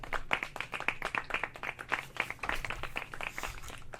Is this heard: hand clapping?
yes